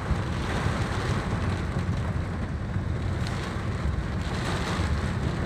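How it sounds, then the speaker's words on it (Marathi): Stormy wind and heavy unseasonal rain in Beed district, heard from a stopped vehicle: a loud, steady broadband roar of gusts and downpour that runs unbroken, with no talking. "आपण हा पाऊस गाडी थांबून थोडं पाहूयात"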